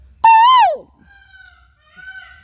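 A voice imitates a koel bird call: one loud, sweeping whistled note rising then gliding down, followed by fainter, thinner whistle-like tones in the background.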